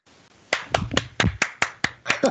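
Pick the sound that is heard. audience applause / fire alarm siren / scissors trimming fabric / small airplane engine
audience applause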